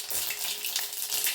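Mustard seeds crackle in hot oil in a pan, a steady, close hiss of frying with fine spitting texture throughout, no voices over it.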